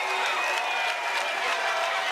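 Columbus Sliders fans cheering and clapping at match point during an MLP Finals pickleball match in New York City, a dense steady crowd roar.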